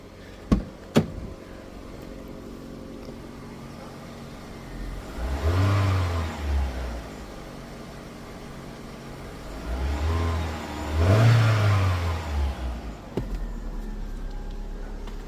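Old Vauxhall Zafira car engine revved twice, each rev rising and falling in a smooth swell over a steady idle, with a couple of sharp clicks at the start and near the end.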